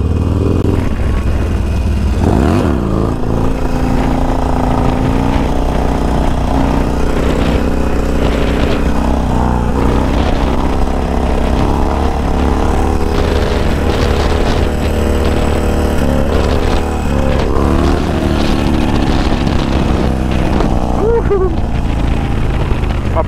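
A high-mileage motorcycle that leaks a little oil is ridden on a group road ride, its engine droning steadily and loudly throughout with wind noise and some revving.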